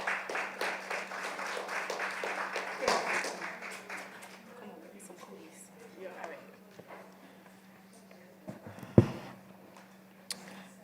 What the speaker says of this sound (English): so clap her up, guys.